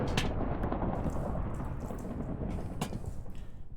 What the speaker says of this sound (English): that rain sounds pretty serious